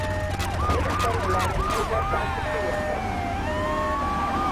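Wailing ambulance siren in a GTA video game, its sweeping tones rising and falling loudly over engine rumble while someone talks over it.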